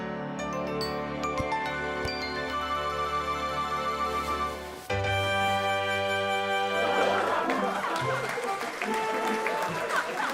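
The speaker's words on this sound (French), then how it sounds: "La foule s'est déchaînée pour les tours de Caillou." A crowd applauds and cheers for Caillou's tricks in a school setting. The clapping swells loudly partway through over cheerful music, and a voice speaks beneath it.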